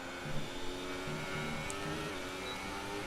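A Formula 1 car engine in the video game F1 2018 drones and whines steadily at high revs, with faint tyre squeal bursts from wheel spin, continuous and fairly loud throughout.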